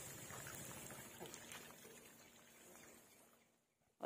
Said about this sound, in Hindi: यहाँ से पानी निकल रहा है।